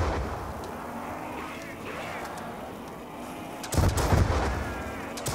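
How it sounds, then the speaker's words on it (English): A rapid-fire rocket launcher in Black Ops 2 zombies gives a rumbling stream of explosive blasts, with a heavy burst near the end, under game noise and a player talking. "Rapid fire rocket launcher"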